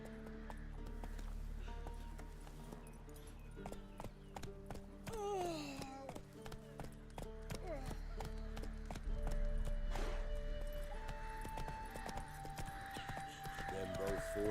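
A horse gallops in The Witcher 3, its steady clip-clop of hoofbeats running throughout under game dialogue and battle sounds.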